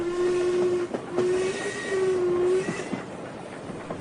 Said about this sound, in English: The train surged through a wilderness thick and heavy with pine and fir